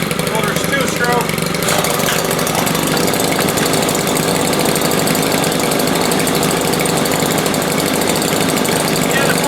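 Stihl-style FS90 4-Mix string trimmer engine idling close by, a steady loud buzzing putter that runs without a break throughout.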